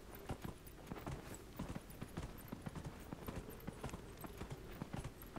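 A horse mount in the Dragon Age Inquisition video game trots along with a steady, rhythmic clip-clop of hooves, moderately quiet and continuous throughout, with no talk over it.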